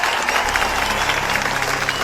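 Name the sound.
applause in a movie scene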